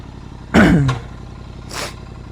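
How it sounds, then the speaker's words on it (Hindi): A warmed-up motorcycle idles with a low, steady engine hum in the background, while someone nearby clears their throat and then gives a softer breathy cough. "So the bike is warmed up"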